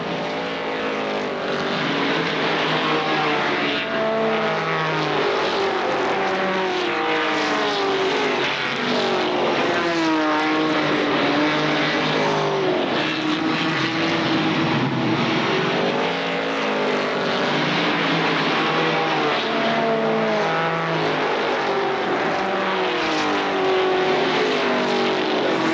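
ARCA stock race cars roar around the Kil Kare Speedway oval in 1995, with several loud engines heard at once, their pitch rising and falling as the cars pass. The sound is continuous and dense, and no talk is heard.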